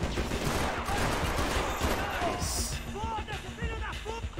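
A loud burst of Max Payne 3 gunfire, automatic weapons and a pistol, rattling steadily for a few seconds before thinning into scattered shots, with voices briefly audible toward the end.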